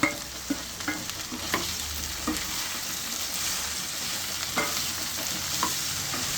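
Okra sizzling and frying in hot oil, with a steady crackle and occasional sharp stirring scrapes, close and continuous with no talking.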